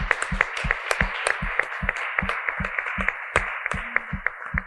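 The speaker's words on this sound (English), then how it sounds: "You can clap for that." Students in a university talk-session audience clap, a loose run of sharp, irregular hand claps spread through the room at moderate loudness, with no talking over them.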